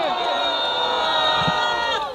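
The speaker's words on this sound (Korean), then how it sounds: "다시 한번 함성!" A crowd at an outdoor protest rally over school curriculum roars in a sustained, loud collective shout and cheer, with an amplified voice blending in.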